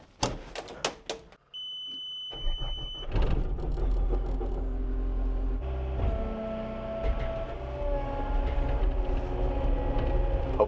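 A skid steer with a heavy low diesel drone drives up to a shop at an off-grid cabin in winter. Sharp knocks come first, then the engine rumbles steadily and close throughout, alone without talk.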